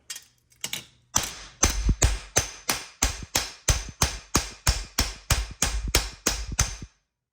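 A hammer pounds steel scrap held in a vise in a fast steady run of roughly twenty sharp metallic blows, loud and close, after a couple of lighter taps at the start.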